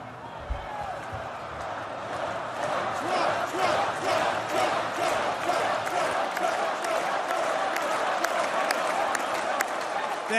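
A large crowd at the Republican convention applauds and cheers through a speech, a dense continuous roar of clapping and voices that swells and holds steady, with speech audible underneath.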